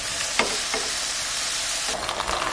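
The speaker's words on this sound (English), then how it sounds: "now you just put this meat side down. We're gonna cook it for about 3 minutes on that side" A Big Mac taco, meat side down in a hot pan, frying with a steady close sizzle that holds throughout, with a light clatter near the start and crackling that picks up toward the end.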